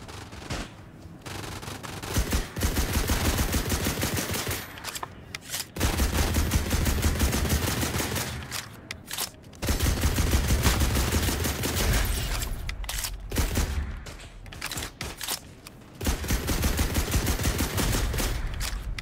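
Gunfire from a shooting video game, with bursts of rapid automatic fire and layered shots coming in loud stretches of several seconds, broken by brief quiet gaps.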